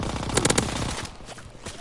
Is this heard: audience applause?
no